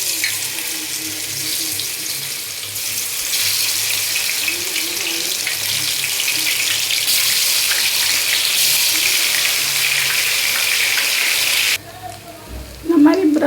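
Soya chunks for soya 65 dropped into hot oil, giving a loud, steady, broadband sizzle that runs nearly unbroken, then drops off near the end with a brief clatter.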